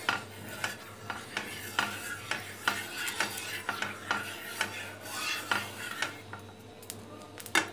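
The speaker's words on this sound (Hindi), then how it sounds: "और हम इसको इसमें इसी तरीके से इसको हम मिला लेते हैं, हर जगह फैला लेते हैं घी को।" Ghee being stirred and spread around a heating pan for sweet bread mithai: a spatula scrapes across the metal in a steady rhythm of about two rasping strokes per second, close and fairly quiet, with no voices.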